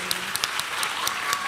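Audience applause for a panel at an APA Next Summit 2022 session, a moderate, steady wash of many hands clapping with a few sharper claps standing out, heard from within the room for a brief moment.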